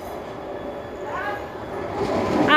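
A train moves through Nuneaton station, a steady rumbling roar that swells toward the end with faint wheel squeal, heard nearby on the platform.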